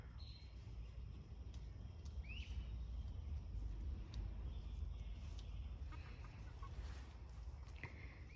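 Chickens let out in the open on a homestead give faint, scattered clucks and short calls over a constant broad outdoor rumble, sounding somewhat distant.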